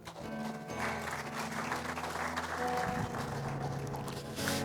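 A church congregation applauds and cheers steadily at a worship service, a dense wash of clapping held over sustained music throughout.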